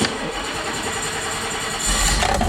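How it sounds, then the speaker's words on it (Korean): A classic old car kept in a garage in Japan starts up with a steady cranking churn that rises into a louder catch at the end, close and continuous. "그렇게 하고 시동 겁니다."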